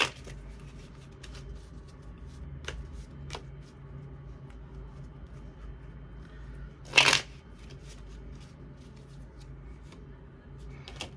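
Tarot cards are shuffled in a soft, continuous riffle with faint papery slides, and one louder snap of a card being drawn partway through, close-up with no talking.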